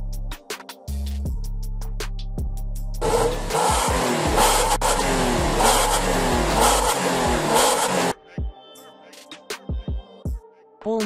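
A Toyota Hilux Surf 4.0 with a Ganador Mafera Vertex exhaust idles loudly, then revs hard for several seconds with a rough, rising roar before dropping back to idle and a few short blips.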